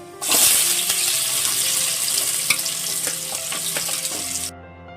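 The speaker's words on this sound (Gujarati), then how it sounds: "હવે ડુંગળીને પણ આપણે તેલ સાથે સાતરી લેશું" Onion sautés in hot oil with cumin for moong pulao, a loud, steady close sizzle that holds for about four seconds before cutting off abruptly.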